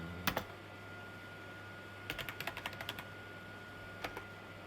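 Keys on a computer keyboard tapped close by: a quick double press, then a rapid run of about eight keystrokes, and a final pair of taps over a low steady hum.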